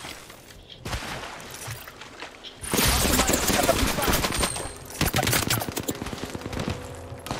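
Gunfire in the battle game Apex Legends, quiet scattered shots that erupt into a dense, loud barrage of rapid automatic fire and impacts, with a player talking in between.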